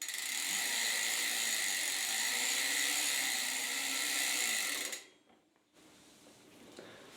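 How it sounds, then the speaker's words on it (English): A bicycle chain spins steadily while a rag wipes off excess lubricant, giving a continuous close hissing and whirring that stops abruptly near the end, then a quieter faint rustle follows. "So I use a rag and just spin it."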